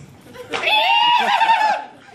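A horse neighs once, loud and close: a long, wavering whinny that rises sharply, holds and trembles for about a second, then fades into quiet stable air.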